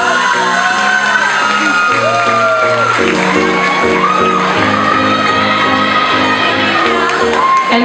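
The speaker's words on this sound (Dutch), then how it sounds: "Mogen wij ook een daverend applaus voor Ellen Heijmans" A crowd at the Miss Fashion 2016 semi-final finalist announcement cheers, whoops and applauds loudly and continuously over steady background music.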